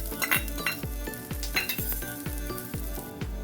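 Chopped garlic from about ten cloves sizzles in olive oil in a nonstick frying pan while a utensil stirs and taps the pan in a steady repeating rhythm, close and loud with no talking.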